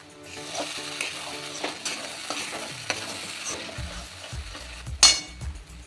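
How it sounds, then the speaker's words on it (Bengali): Cashew and poppy seed paste hits well-cooked masala in a pan for a white chicken gravy, giving a soft, close sizzle with repeated stirring scrapes and a sharp spoon clack near the end. "মশলাটা খুব সুন্দর কষে গেছে এবার দিয়ে দেব এই কাজু আর পোস্ত বাটাটা"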